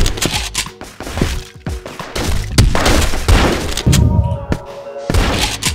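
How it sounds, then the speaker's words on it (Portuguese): Gunfire in the CrossFire online shooter game, several sharp shots and thudding booms scattered irregularly among other game noise, with players talking in between. "Dois tiros."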